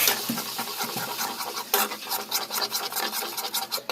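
A spoon scrapes and rubs through eggplant, sesame and spices in a pan, making close, uneven scraping strokes in a quick irregular rhythm with soft clinks, and no voices.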